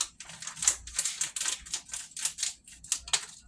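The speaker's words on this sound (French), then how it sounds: "Je vais couper les deux paquets." Scissors snip open paper packets of corn flour and rice flour in a quick, irregular run of close, crisp cuts and crinkles, with short gaps between strokes.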